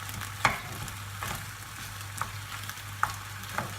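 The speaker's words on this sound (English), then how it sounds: "just give that another little stir." Lasagne filling sizzles quietly in a pan while being stirred. A soft, steady frying hiss runs throughout, broken by a few sharp scraping clicks of the spoon at irregular intervals, with no voices.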